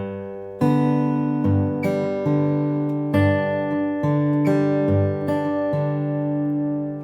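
Slow Travis picking on an acoustic guitar, with clear plucked notes ringing over an alternating bass in an even, unhurried pattern, played close and with no voices.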